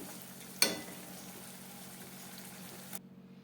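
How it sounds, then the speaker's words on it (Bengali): Potato and soybean chunks sautéing with tomato in a pan, a steady low sizzle and bubbling throughout, with a sharp clatter near the start and another brief knock just before the sizzle cuts off. "আর দিয়ে টমেটো দিয়ে ভালো করে কষিয়ে নিচ্ছি"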